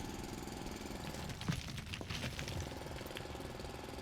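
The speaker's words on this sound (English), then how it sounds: "I'm going to grab the mine drill, activate that, and just take out some of this ore" Mine drill chewing through ore nodes in the video game Foundry, a steady mechanical grinding rumble with a few sharper rattling bursts, continuous and fairly close with no voices over it.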